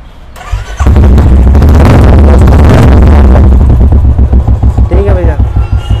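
A Royal Enfield Bullet motorcycle with a changed silencer fires up close by after a brief crank, then settles into a loud, heavy, thumping idle with a slight rev.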